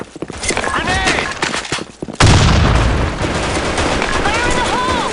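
Gunfire and voices fill a round of the shooter game Black Shot before a grenade explosion bursts in sharply and loudly, leaving a noisy rumbling wash afterward.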